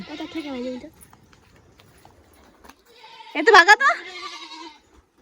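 A goat on a rainy evening in Nepal gives two loud, close, wavering bleats separated by a quiet gap, the second call stronger and broken by brief rough sounds.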